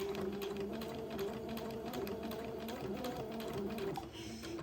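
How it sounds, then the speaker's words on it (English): A sewing machine stitches a sleeve onto a small doll dress, running continuously with a fast, even mechanical hum and rapid needle ticking up close before slowing near the end. "And you can stretch and ease the sleeve as you sew along."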